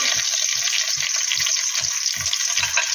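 Bay leaves and cinnamon fry in hot oil, giving a bright, dense sizzle with a soft rhythmic scraping of a spoon stirring beneath it, close and steady throughout.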